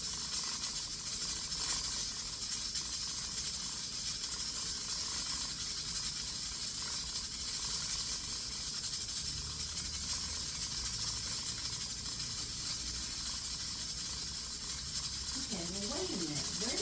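Food sautéing in a pan gives off a steady, loud sizzling hiss that runs throughout, with a voice briefly heard near the end.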